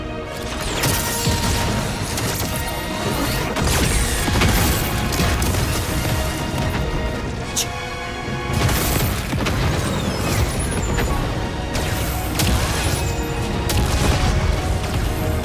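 Battle in the game Xenoblade Chronicles X: Definitive Edition, with loud booms, crashes and bursts of gunfire piling up continuously over a busy mechanical din, dense and intense throughout with no clear pauses.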